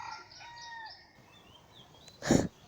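A rooster crows once in the background, a drawn-out call with a sharp louder burst near the end, set against faint ambient noise.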